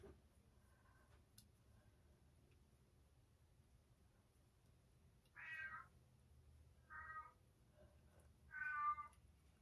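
A cat meows three times in the background, short and moderately faint, over a quiet room hum.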